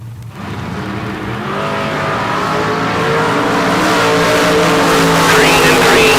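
A white-on-blue 1970 Camaro drag race car revs hard on the starting line at the K&N Southwest Showdown, its engine note climbing steadily and loud under an announcer's voice.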